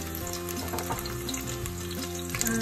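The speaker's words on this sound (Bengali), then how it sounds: "গরম তেলে রসুনটা চেড়ে দিলে কালারটা একটু সুন্দর হয়" Garlic dropped into hot oil for a chicken curry fries with a dense, continuous crackling sizzle, close and even throughout, with no voices.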